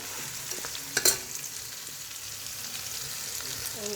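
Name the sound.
garlic frying in a pan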